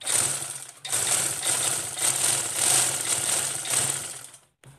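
Sewing machine stitching a scrap of fabric, running in a fast, steady rattling whir with a brief pause near the start before continuing, then stopping abruptly, close and alone.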